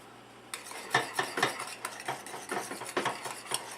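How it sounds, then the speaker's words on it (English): Food being stirred in a pan while pepper and salt are added, with a utensil scraping and clinking against the pan in repeated quick strokes, close and fairly loud, with no talking. "Stir that up"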